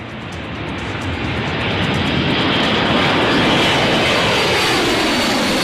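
An F-35 fighter jet's engine roars in a loud, steady, broadband rumble that swells slightly and holds constant during the Cope North exercise at Andersen Air Force Base, Guam, with no voices.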